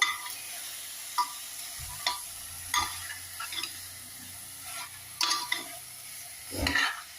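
Chicken pieces stirred in a pan while cooking curry, with repeated scraping strokes of the spoon against the pan over a light steady sizzle, close and fairly quiet, no talking.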